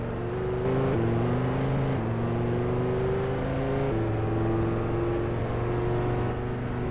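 A Lamborghini Huracan engine in a driving simulator game drones steadily and loudly throughout, its pitch stepping up and dropping back at a few gear changes, with no talk over it.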